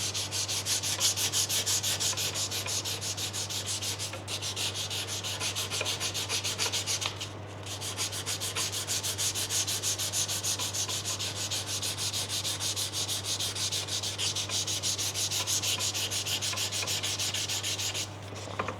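A snooker cue splice is worked by hand with 320 grit sandpaper, giving a steady rapid rasping rub in quick even strokes, close and continuous with only brief pauses, over a constant low electrical hum.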